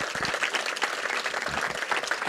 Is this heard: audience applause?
yes